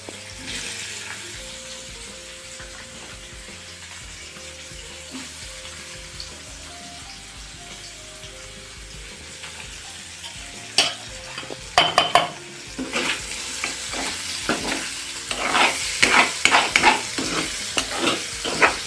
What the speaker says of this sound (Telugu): దీంట్లో ఈ కట్ చేసుకున్న పన్నీర్ జాగ్రత్తగా వేయండి